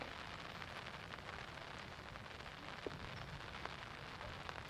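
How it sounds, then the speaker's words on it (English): Steady rain patters across an outdoor disc golf course, a dense, even hiss with occasional distinct drops, no voices. "Started to rain on this hole."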